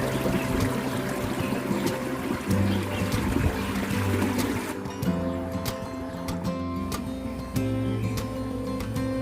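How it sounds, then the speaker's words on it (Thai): Water running down the two stone walls along a resort walkway in Chiang Mai, a steady continuous pouring and trickling that stays moderately loud throughout, with no talk over it. "แล้วก็มีน้ำไหลลงมา"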